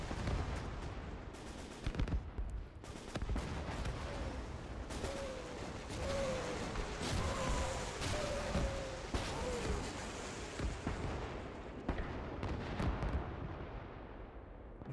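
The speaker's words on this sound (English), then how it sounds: "The first Nebel barrage." Rocket artillery barrage of German Nebelwerfer launchers in the Gates of Hell war game, a continuous roar of rumbling blasts and crackling fire with rising whistling streaks through the middle, loud and dense throughout.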